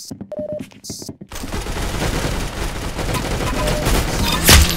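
Rapid gunfire from the video game Arsenal, a dense continuous burst of shots that builds steadily after a brief pause near the start, loud and sustained with a sharper blast near the end.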